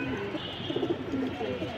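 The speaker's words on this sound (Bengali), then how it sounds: "কিছু মার্শাল্লাহ ডিপ ব্লু পাঙ্কি কবুতর দেখাবো আজকে আপনাদেরকে" Deep blue Jabra Punky pigeons coo in low, steady murmurs that run without a break, close and moderately loud, with a faint voice-like mumble underneath.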